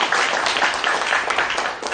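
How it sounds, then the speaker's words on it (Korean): Audience applause at the close of a university professor's lecture in a hall, a dense, steady wash of many hands clapping that holds evenly for two seconds with no voices on top. "우리 좋은 강의 해주신 교수님께 다시 한번 큰 박수 부탁드립니다"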